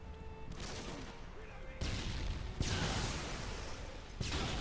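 Gunfire in Modern Warfare 2, several sharp bursts of shots cutting through a busy game soundscape, with loud noise stretches separated by brief quieter gaps.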